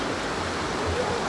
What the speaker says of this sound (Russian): Сейчас волна съест поздравления.